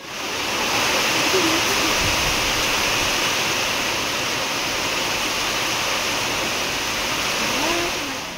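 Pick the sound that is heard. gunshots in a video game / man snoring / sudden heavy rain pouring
sudden heavy rain pouring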